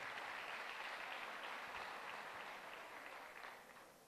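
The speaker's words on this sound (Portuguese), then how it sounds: "Vamos dar uma salva de palmas a Jesus pela vida do pastor Rodrigo." A congregation gives a round of applause in a Methodist church for Pastor Rodrigo, a steady wash of many hands clapping that holds throughout and tapers slightly at the end.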